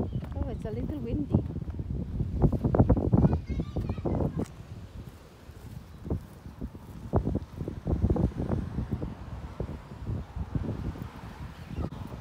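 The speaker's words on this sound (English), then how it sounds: "A little windy." Gusty wind blows outdoors by the sea, buffeting the microphone with a steady rushing roar that swells and fades while someone talks over it.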